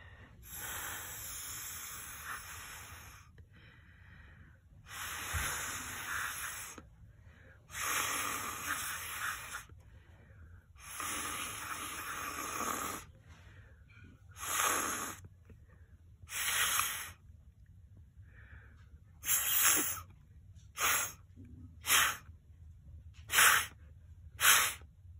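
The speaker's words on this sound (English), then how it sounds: "now I'm gonna blow some of these short, softer breaths" Short, soft breaths are blown onto shaving cream, a series of airy hissing puffs separated by pauses that grow shorter and sharper toward the end, close and alone.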